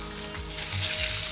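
A pork chop fries in its own rendered fat with little or no oil, giving a loud, close, continuous sizzle with crackling spatters.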